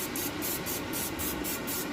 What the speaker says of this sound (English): I'm just going to spray my chicken real quick so that it gets a little crispier.